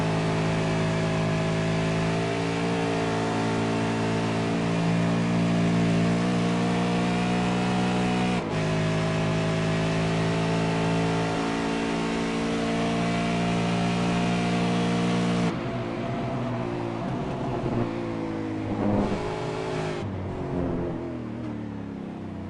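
A V8 race car engine screams through an onboard lap of Watkins Glen, loud and continuous, its pitch climbing through the gears, with sharp drops at each shift and on braking for corners.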